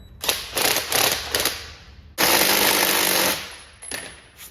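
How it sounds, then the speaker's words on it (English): A small 1/4 inch impact wrench tightens a spring compressor on an Audi A4 B5 coilover job, rattling in several short bursts and then one long sustained hammering run, up close with no talking. "so I got it as tight as this little 1/4 inch impact will get it"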